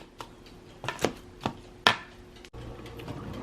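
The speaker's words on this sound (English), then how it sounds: "And then just start mashing." Food being mashed with a little olive oil for a toast topping, giving a few soft, irregular thuds and scrapes close by in a quiet kitchen.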